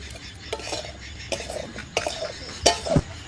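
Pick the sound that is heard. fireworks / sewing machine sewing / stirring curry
stirring curry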